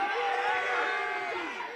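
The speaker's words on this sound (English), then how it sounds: "the crowd letting Monroe hear it with his team down 6" A college men's basketball semifinal crowd roars and cheers in an indoor arena, a loud, sustained wash of voices and whoops that fades slightly at the end, with commentary talk over it.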